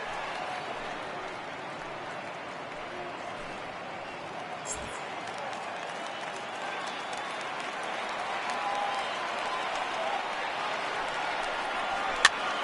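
Baseball stadium crowd in a PS4 video game, a steady roar of cheering and applause that swells slightly toward the end, with a sharp click near the close and commentary voices underneath.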